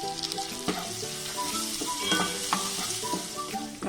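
Masala paste for Malaysian fried rice frying in a pan, a soft steady sizzle with repeated spatula stirs and light clinks over a faint tonal background.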